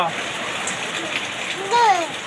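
Steady rainfall hisses on surfaces during rainy weather, with a voice speaking briefly over the continuous patter.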